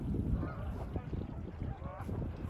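A flock of geese honks repeatedly near a walking path, with several overlapping calls over steady outdoor rumble and a voice speaking briefly.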